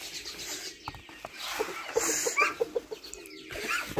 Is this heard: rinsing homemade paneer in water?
no